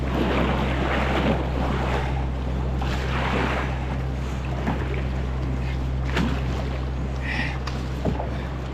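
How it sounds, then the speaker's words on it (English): A canoe is paddled across a wild, rugged river north of Lake Superior, with steady rushing water and wind filling the scene and faint paddle splashes close by. "I'm gonna try to paddle over to the other side, and Ted's gonna catch me."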